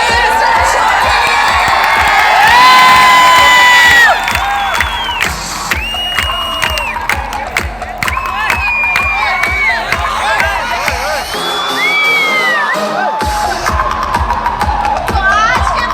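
Loud crowd at a Samsung employee celebration cheering and clapping for a lucky draw winner, a dense sustained roar with whoops and shouts and a voice on a microphone over it, thinning briefly near the end.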